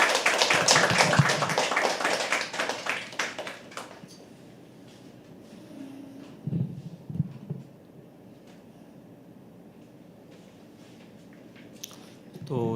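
Open-mic poetry audience clapping loudly for about four seconds in a quick patter, then fading out, leaving a quiet room with a few faint knocks and shuffles.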